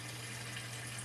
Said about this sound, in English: So you can see that it's running a little water now.